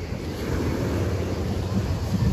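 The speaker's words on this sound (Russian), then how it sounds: "Ой, сегодня волны" Small sea waves wash onto a beach on the Black Sea coast, producing a steady low rumbling surf with wind buffeting the microphone throughout, no voices.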